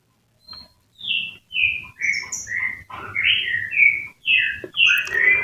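A young green leafbird calls repeatedly and close by, a lively series of whistled chirps and warbling notes with short gaps between phrases.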